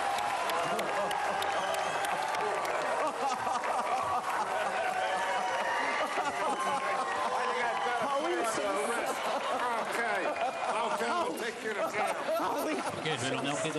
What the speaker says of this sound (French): Et merci de nous applaudir.